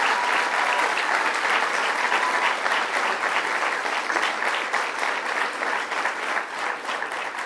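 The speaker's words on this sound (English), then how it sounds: "Let's give her a round of applause, Assemblymember Deborah Glick." Sustained, loud applause from a crowd at a New York bill-signing event honoring an assemblymember, a thick, even roar of many clapping hands that holds steady throughout.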